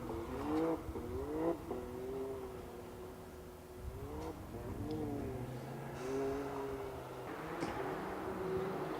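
A Can-Am off-road buggy races over bumps on a cross-country course at Bovington, its engine note rising and falling in repeated revving surges as it works across the rough ground, heard from a moderate distance.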